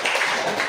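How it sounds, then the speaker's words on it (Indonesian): Brief burst of clapping from students in a classroom lesson, a short dense patter of hands lasting under a second. "tepuk tangan untuk Mauza."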